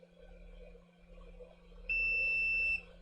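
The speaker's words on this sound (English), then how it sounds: "multimeter in beep mode" A short electronic beep from a multimeter in continuity mode sounds once while testing a laptop motherboard capacitor, a steady high-pitched tone lasting under a second, over a faint background hum.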